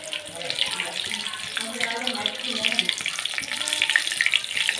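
Chilli bajji fry in hot oil, a steady close sizzle and crackle with soft bubbling and occasional clinks, with no talk over it.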